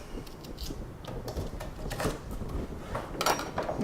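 Knife slicing a celery stalk into thin strips on a board, an irregular series of quick crisp cuts and taps, close and moderately loud.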